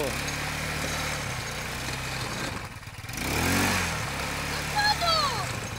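A 150cc quad bike engine drones and revs under held throttle, close and fairly loud, dipping briefly before rising again as wheels spin, with a person shouting instructions over it.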